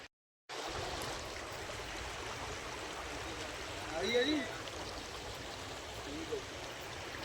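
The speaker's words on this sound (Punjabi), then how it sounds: "ਆ ਪਾਣੀ ਜੇ ਵੀ ਇੱਥੇ ਤਿੰਨ ਤਿੰਨ ਫੁੱਟ ਚੱਲਦਾ" Floodwater pours through a breach in an embankment near a flooded village in Punjab, a steady broadband rush like a stream that runs unbroken and fairly close, with a brief louder surge partway through and faint background sounds.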